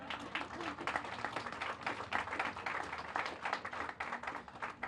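A small outdoor crowd at the Florence Mills Apartments groundbreaking claps in scattered, uneven bursts. The clapping sounds fairly faint and distant and continues for several seconds without speech.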